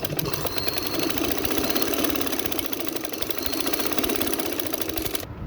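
Sewing machine running steadily while stitching lace onto the folded sleeve edge of a frock, a continuous close mechanical whir that holds without pause for several seconds, then cuts off right at the end.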